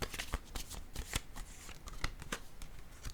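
Tarot cards being shuffled by hand, a close series of quick crisp riffles and flicks with irregular snaps, quiet and alone without talk.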